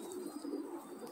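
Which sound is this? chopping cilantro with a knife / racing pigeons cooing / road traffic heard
racing pigeons cooing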